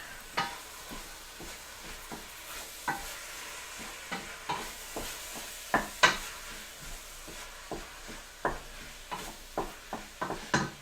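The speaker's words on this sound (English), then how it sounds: "wait till your meat gets browned and all the juices that come out of the meat evaporate." Meat browning in a hot pan, sizzling steadily while a utensil stirs it with repeated scraping clicks and taps, close and moderately loud, no talking.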